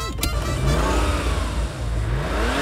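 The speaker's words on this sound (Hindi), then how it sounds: "मैं गाड़ी चलाता हूँ।" A cartoon car engine revs up loudly and steadily as the vehicle pulls away, with a rising whine and a brief sharp click near the start, heard alone without voices.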